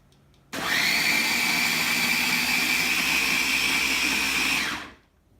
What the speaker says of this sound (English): Then blend this mixture until smooth.